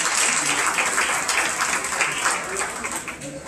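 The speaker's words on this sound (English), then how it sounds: "let's give these kids a round of applause for our champion drive out here in our lightweight division" Steady applause from a crowd at a lamb show, cheering kids in the lightweight division, with a voice talking over the clapping.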